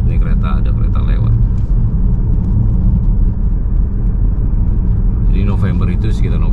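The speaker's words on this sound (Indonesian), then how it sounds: "Macet nih kereta, ada kereta lewat." A train passes nearby on a street in autumn, a loud, steady low rumble and rolling roar that fills the whole stretch, with a voice talking over it at the start and end.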